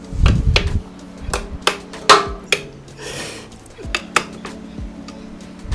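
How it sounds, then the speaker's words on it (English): Hand tools clink and ratchet as four bolts are taken off a new motorcycle during a modification. The metallic taps and scrapes come in sharp, separate bursts, close and clear, over a faint low hum. "And next we just want to take these four bolts off."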